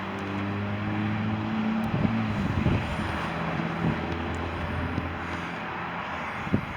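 A Johnson 175 outboard engine runs steadily with a low hum, then revs briefly as the throttle opens, with a few knocks and clunks near the engine.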